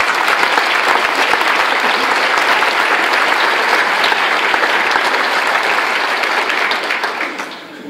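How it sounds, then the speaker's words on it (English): Loud, sustained applause from a crowd at a university basketball team banquet, many hands clapping steadily before tapering off at the very end. "So I want to give those guys a big round of applause"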